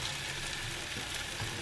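Food sizzles in a frying pan during a brunch, a steady close hiss that runs unbroken with no voices.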